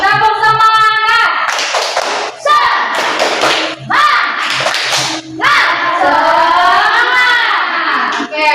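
A classroom of schoolchildren performs a spirit clap, their rhythmic hand claps mixed with loud, chanted young voices that continue steadily throughout.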